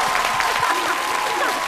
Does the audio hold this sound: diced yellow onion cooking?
no